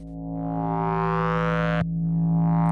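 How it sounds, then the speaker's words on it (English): A sustained, heavily distorted tone rings with a buzzy, gritty edge, briefly cut by a click before continuing steady and loud. "So we could just add on a little bit of, guess what? Distortion."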